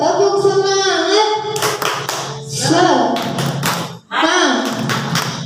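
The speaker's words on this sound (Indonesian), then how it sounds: "Kita tepuk semangat dulu yuk, tepuk semangat." A group of teachers claps in a rhythmic encouragement routine, loud and close, with bursts of patterned hand claps alternating with voices chanting and speaking.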